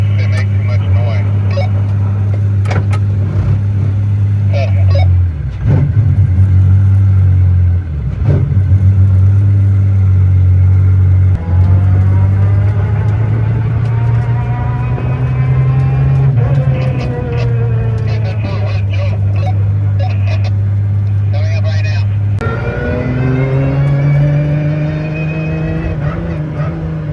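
An Apollo IE hypercar engine is heard from inside during a ride-along: a loud, steady drone with rising and falling revs that climb through the run, close and constant the whole way, with voices talking over it.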